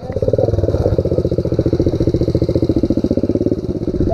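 A small Pro Tork mini motorcycle engine putters steadily and close up, with a fast, even pulsing beat throughout. The float is set high, so it tends to flood.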